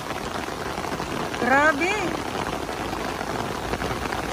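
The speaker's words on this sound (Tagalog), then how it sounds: "Sumugod bigla yung ulan." Sudden rain pours at Dolomite Beach on Manila Bay as a steady, hissing wash, with a brief exclamation from a voice over it.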